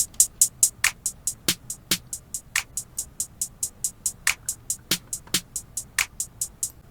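A sparse trap drum pattern plays back: rapid, evenly ticking hi-hats with occasional snappier hits layered in, no kick, no voices.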